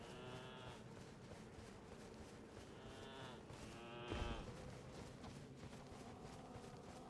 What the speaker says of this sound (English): These mad goats are very calm,